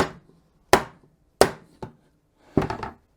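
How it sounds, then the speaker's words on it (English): A Nupla rubber mallet knocks against the glued joints of a loose wooden chair, four close, sharp smacks separated by short pauses, the last landing as a quick double strike. "I'm going to try kind of smacking these a little bit in to break that glue bond a little bit"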